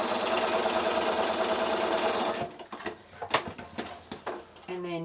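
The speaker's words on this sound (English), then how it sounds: "Sewing right through, so if you sew the longer line first" A sewing machine stitches quilt pieces for a house block diagonally, running in a steady, dense whir for about two seconds before stopping, followed by quieter handling clicks and a brief faint voice.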